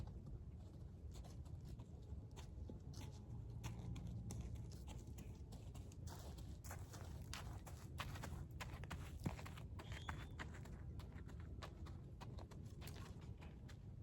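Horse BabyToo's hooves clip-clop steadily at a trot during spring training, a continuous run of soft hoof falls over a busy outdoor background, with no voices.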